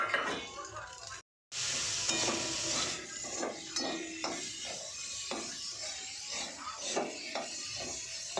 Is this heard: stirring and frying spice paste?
yes